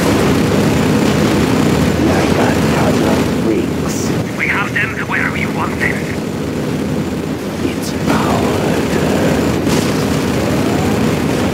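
Aircraft flyby in the video game Command & Conquer, a loud, dense roar and rumble with blast-like bursts, sounding continuously under game voices.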